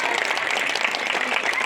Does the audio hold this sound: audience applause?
yes